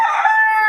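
A single short rooster crow from a gamecock bred for cockfighting, loud and close, with a clear bright tone and nothing else audible.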